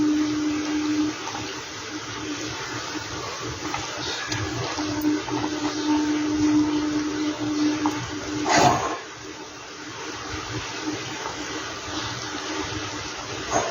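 Hilsa fish curry broth with stalks and potatoes boils steadily in a pot, giving a continuous bubbling, watery rush at moderate level with a brief louder splash partway through.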